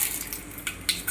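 Mustard seeds, cumin and curry leaves tempering in hot oil, a sharp crackling sizzle with a few brief bursts and popping spikes, close and fairly loud with no talking.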